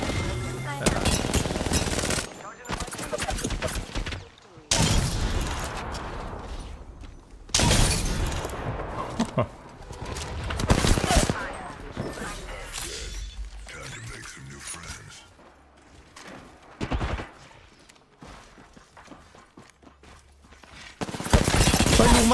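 Gunfire in Apex Legends, repeated loud bursts of automatic fire and heavy single shots from a charge rifle, separated by quieter gaps while players talk.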